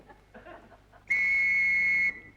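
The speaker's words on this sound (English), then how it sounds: "What's the whistle for?" A sharp whistle blast, one sustained shrill tone lasting about a second, loud and close, following a moment of quiet background.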